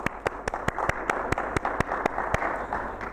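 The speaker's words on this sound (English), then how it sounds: "Massive big round of applause." Applause at a school end-of-year award worship: a small group claps in a fairly steady rhythm, with some sharp individual claps standing out over a soft, continuous patter.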